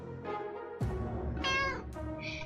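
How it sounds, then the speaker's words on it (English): A cat in the 60 Seconds game meows several times, a drawn-out cry followed by shorter, higher calls, close and clear with no talking. "Kitty, you meowed again!"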